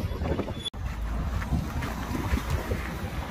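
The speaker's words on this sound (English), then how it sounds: "It's very windy" Strong wind buffets the microphone in the dry, dusty high desert of the Bolivian Andes near Uyuni, a steady rumbling roar with gusty swells and a brief dropout, no voices.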